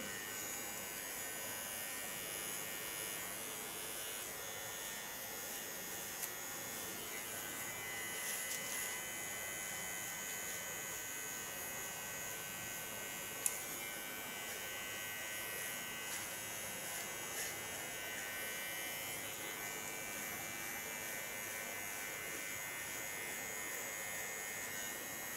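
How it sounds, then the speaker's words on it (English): An electric hair clipper buzzes continuously and faintly while shaving a nape, a steady high whine with slight variations in pitch and no voices. "Only use the tip of my clipper blade."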